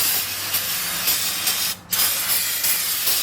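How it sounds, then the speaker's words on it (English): A loud continuous hissing spray of aerosol brake cleaner on a 2008 Lexus IS250 brake assembly, briefly interrupted once midway, then resuming steadily. "Let's spray that down."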